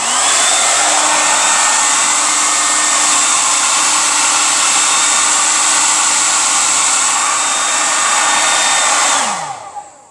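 A household hair dryer blasting at full power, a loud steady roaring whoosh with a constant motor whine that holds evenly before shutting off and winding down at the end.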